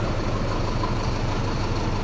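A Sonalika Tiger DI 65 4WD tractor's diesel engine, a 2024 model, idles steadily with a low, even throb, close and continuous with no talk.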